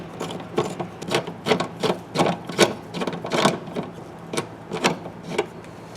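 Fastener being unscrewed while fitting dual electric fans: a run of rhythmic scraping, ratcheting strokes, close and fairly loud, repeating steadily about twice a second with no talking.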